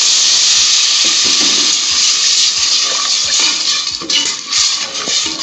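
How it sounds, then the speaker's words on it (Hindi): Water is poured into wheat dalia roasting in ghee in a pan, and a loud, steady hiss and bubbling sizzle fills the whole span, with faint stirring clicks. "अब हम इसमें 1 कप पानी डाल देंगे।"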